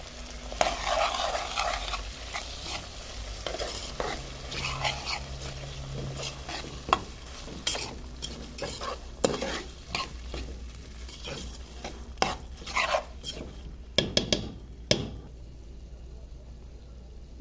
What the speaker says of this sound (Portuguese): Coloquei aqui o azeite, a cebola e o sal. Vou esperar refogar para colocar o feijão.